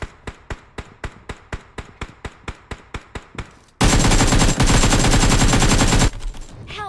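PUBG Mobile gunfire: about fifteen evenly spaced single shots ring out loud and close, then a dense sustained burst of automatic fire roars for over two seconds before cutting off into fading echoes.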